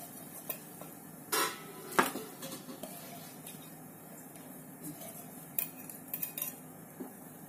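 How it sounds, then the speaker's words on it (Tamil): Goat trotters are added to a pot of boiling spiced water for soup, giving scattered metallic clinks and clatters with a couple of louder knocks near the start, close by over a faint steady bubbling hiss. "ஆட்டுக்கால் சேர்த்துக்கலாம்."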